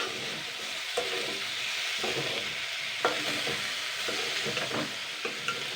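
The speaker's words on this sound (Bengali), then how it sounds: "নুন হলুদটা দেওয়ার পরেও কিন্তু আমি জাস্ট দুই তিন মিনিট হালকা ভেজে নেবো" Malabar spinach seeds with salt and turmeric fry in a pan, giving a continuous sizzle with occasional stirring scrapes and taps, close and steady and free of speech.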